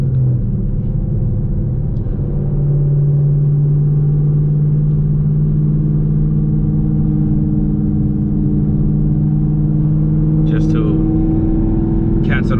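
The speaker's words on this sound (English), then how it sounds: "That little exhaust leak" A car engine fitted with aftermarket headers revs under load, its small exhaust leak audible in the steady, loud mid-pitched rumble that holds throughout, with a brief rise in pitch and a few faint clicks near the end.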